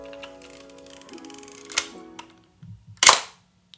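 A mechanical film camera, received in very good condition, fires its shutter, giving a sharp, close click near the end after some faint winding and ticking sounds, with no talk.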